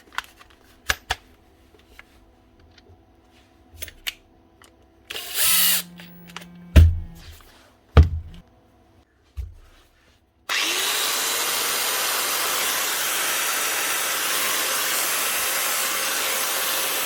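A repaired 27-year-old Bosch GWS 6-116 angle grinder motor starts with a few short bursts and clunks, then runs steadily with a loud, coarse whirring roar until the end.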